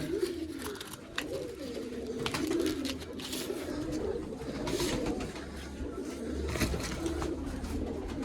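Pigeons coo repeatedly in a loft setting, soft rolling calls overlapping at close range over a steady background, with occasional sharper knocks and rustles.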